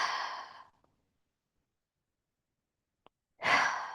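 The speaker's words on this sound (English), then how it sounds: "Exhale it out." Two strong breathy exhales during a yoga session, one at the start trailing off, the other a deep push near the end, separated by near silence.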